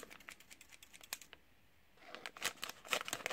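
Quiet, quick snipping clicks of scissors, sparse at first, then a denser burst of cutting near the end, close by with no talk.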